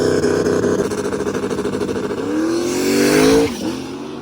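Loud drag racing cars, including a Mark 1 Jetta, rev and accelerate hard, rising in pitch as they scream away down the drag strip, with a brief tire squeal near the end.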